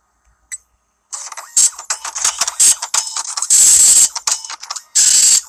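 Printer printing posters in the video game FNAF 6, a mechanical ratcheting, grinding clatter in several loud bursts after a brief quiet start, with short pauses between passes and no talking.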